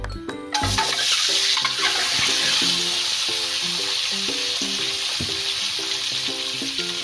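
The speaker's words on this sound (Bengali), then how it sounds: "এখন আমি ডিমগুলো লবণ হলুদের যে মেখে নিয়েছিলাম ভেজে নেব।" Eggs rubbed with salt and turmeric hit hot mustard oil in a kadai and burst into a loud, sustained crackling sizzle that stays dense throughout, over light background music.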